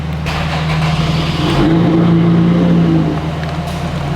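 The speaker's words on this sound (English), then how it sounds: "just like that, the car starts" A Lotus car engine cranks and catches, then idles loudly with a brief rise in revs before settling, close and steady.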